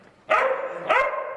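Two loud, sharp dog barks at a stunt dog show in a theater, the second following about half a second after the first, close and clear with no talking.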